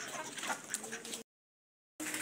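A rooster clucks and calls among other fowl, a busy, moderately loud burst of bird noise that cuts off to silence for most of a second before resuming.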